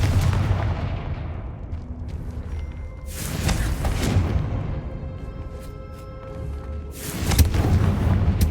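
Fiery spell blasts boom out in Hogwarts Legacy, two heavy, explosive bursts roughly four seconds apart, each swelling with a crackling rush and leaving a rumbling tail.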